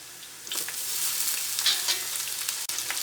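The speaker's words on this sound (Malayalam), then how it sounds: "ഇനി ഇതിലേക്ക് നമുക്ക് സവോള ചേർക്കാം," Sliced onions dropped into hot coconut oil already browning ginger and garlic give a loud, continuous sizzle with crackling spikes and stirring, and no voices.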